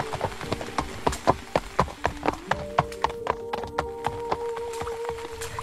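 Horse hooves clip-clopping in a steady, evenly spaced rhythm, fairly close and distinct, with a sustained musical drone underneath and no talking.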